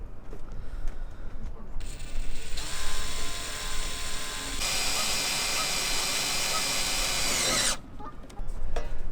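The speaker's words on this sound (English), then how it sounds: "Let's drill some holes." A power drill whirs loudly in several bursts, drilling holes in a boat deck, its motor pitch rising and holding steady for a few seconds before stopping.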